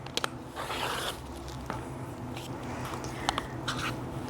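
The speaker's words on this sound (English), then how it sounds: "So I'm going to trim my selvage" Quilting fabric selvage trimmed with a rotary cutter and ruler, soft scraping and sliding cuts with a couple of sharp clicks, close and fairly quiet.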